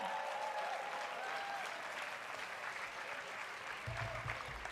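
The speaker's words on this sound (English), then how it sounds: "So my friends, please give me a warm round of applause for Nancy as she comes onto the stage." Warm applause from a large audience at a political summit as a speaker comes onto the stage, a steady dense wash of clapping filling the whole stretch, fairly close and continuous, with faint crowd murmur beneath.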